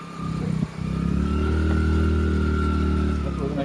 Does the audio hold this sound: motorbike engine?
yes